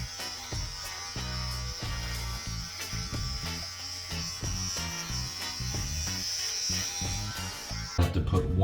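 Cordless hair clippers buzz steadily while cutting hair during a Viking-style haircut, a close, continuous electric hum with small rhythmic shifts as the blades move. It ends with a brief rustle.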